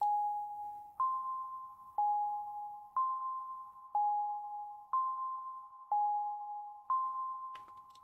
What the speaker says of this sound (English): it's a bell that's kind of in the background, and it's this preset out of Atom